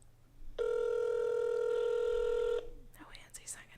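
An outgoing phone call rings unanswered, a single long steady electronic ringback tone of about two seconds, followed by quiet voices murmuring afterward.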